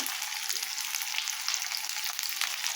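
Chili and turmeric spices fry with yam and prawns in a pan, producing a dense, loud and steady sizzle that stays even throughout, heard up close with no speech.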